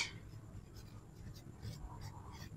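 Marker or chalk writing on a board during an ICT class, faint scratchy strokes in short bursts beneath a quiet voice explaining in Bengali.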